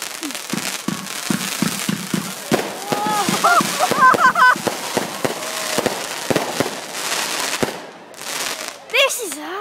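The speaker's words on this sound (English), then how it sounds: "we are videoing some fireworks at the Ivy House" Fireworks display at the Ivy House: rapid crackling bursts and popping explosions, some close and loud, with whistling rockets and excited voices talking and exclaiming throughout.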